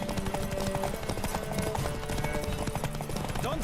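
A horse gallops during a race in The Witcher 3 video game, rapid steady hoofbeats running under in-game music and effects, with no pause in the rhythm.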